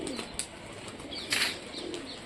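Rajshahi Giribaz pigeons coo softly nearby, a few low throaty calls mixed with light chirps and a brief flutter-like rustle, fairly quiet overall.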